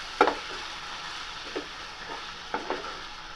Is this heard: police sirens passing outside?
no